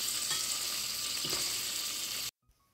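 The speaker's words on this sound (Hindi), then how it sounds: "इनको डाल के सौटे करना है 2-3 मिनट।" Onions and tomatoes sauté in a pan for palak paneer with a bright, even sizzle up close. It runs steadily, then stops abruptly just before the end.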